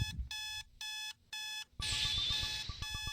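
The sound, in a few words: alarm clock ringing in video game Butterfly Soup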